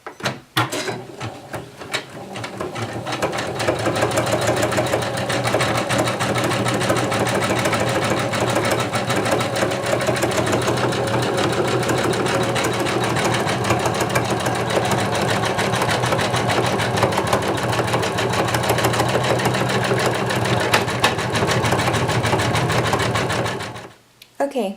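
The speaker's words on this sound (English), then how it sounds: "now I'm going to stitch out my name onto this back" An embroidery machine stitches a name onto a fabric card holder, a fast steady mechanical whirring and needle chatter running close and continuous for over twenty seconds, with a voice speaking over it now and then before it stops.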